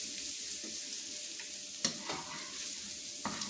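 Ground beef for Thai beef larb fries in a pan lifted slightly off the heat, giving a gentle continuous sizzle broken by a few sharp scrapes and taps of a utensil, close up and with no one speaking.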